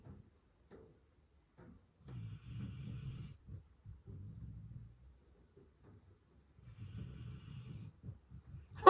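A dog named Rocket snores softly nearby in a quiet room, with low rumbling breaths repeating at a slow, uneven rhythm.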